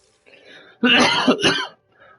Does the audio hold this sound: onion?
no